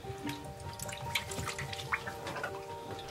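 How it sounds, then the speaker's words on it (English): Ice-cold lake water drips and splashes as a man washes his face at a remote cabin in the Siberian forest, with small irregular trickles and splashes over a quiet background. "he washes his face with ice-cold water that he collected from a nearby lake"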